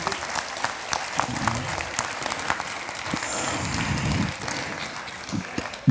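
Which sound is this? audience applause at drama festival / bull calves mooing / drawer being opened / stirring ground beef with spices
audience applause at drama festival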